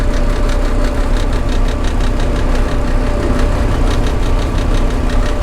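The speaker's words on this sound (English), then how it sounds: "got a bit of a vibration to it." A 7600 tractor engine idles steadily and loudly nearby, with a constant knocking vibration and a rapid rhythmic pulse running through the whole stretch.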